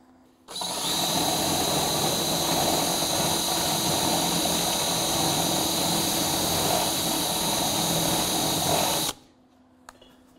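A welder runs on a car floor pan where it joins a thick bracket underneath, giving one steady, close, buzzing crackle for about nine seconds before it stops sharply, with no talking.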